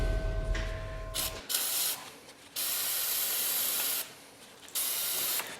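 Several hissing bursts of aerosol brake-cleaning spray on a Dodge truck's front brakes, each lasting a second or more with short gaps between, close and steady, preceded by a brief low mechanical hum.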